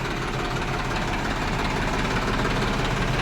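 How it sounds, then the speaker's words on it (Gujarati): A tractor engine idles in a village, a steady unbroken rumble that stays close and constant throughout with no voices over it. "મારા ઈયાસને ટ્રેક્ટરમાં બેહવું બહુ ગમે"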